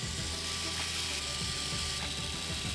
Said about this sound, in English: I use the power driver to get the screws close